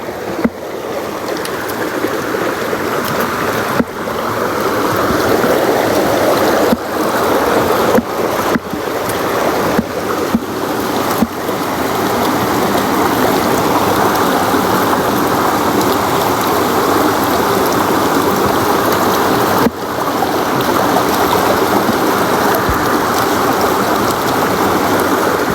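Rising water flows in, a steady loud broadband rush and wash that keeps going throughout, with a few brief knocks and splashes and no voices.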